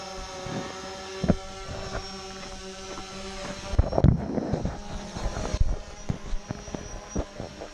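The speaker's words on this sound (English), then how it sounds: "That is a cool drone." A drone flies overhead outdoors at Gooseneck canyon, a steady whining motor hum with harmonic tones, buffeted by gusts of wind noise and brief rumbles.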